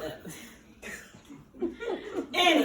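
A single strong, harsh cough bursts out near the end, preceded by chuckling and soft laughter from a person.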